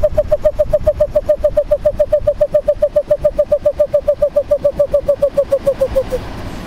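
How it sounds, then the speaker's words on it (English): Western toad advertisement call, a long rapid train of evenly pulsed chirps lasting about six seconds, loud and close over a low rumbling background. "suddenly these toads are also producing an advertisement call"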